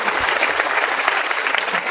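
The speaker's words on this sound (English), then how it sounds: "Parents, please give a big round of applause." Parents applaud at the close of a first-standard school cultural program, a steady, dense clapping from the audience that fills the whole short stretch at even loudness.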